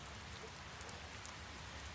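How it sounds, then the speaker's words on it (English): Rain falls steadily at night outside a hotel in Alnwick, a soft, even hiss with occasional faint drips, heard alone and quiet. "like it's raining"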